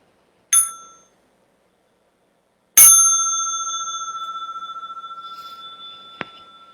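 A small meditation bell is struck twice, a short ding and then a longer clear ring that slowly decays in the quiet; a faint tap follows near the end.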